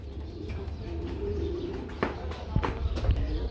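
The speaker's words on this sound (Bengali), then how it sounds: "আমরা এখানে দেখতে পাচ্ছি বন্ধুরা আরেক জোড়া কবুতর" Pairs of pigeons coo in low, throaty, repeated calls close by at a pigeon seller's, mixed with a few faint chirps and light rustling.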